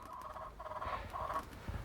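Turkeys on a winter homestead gobble in a few quick rattling bursts, fairly close and clear, with no voices over them.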